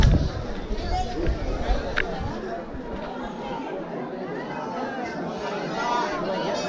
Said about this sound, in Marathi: आपल्याला इकडं पण गर्दी आहे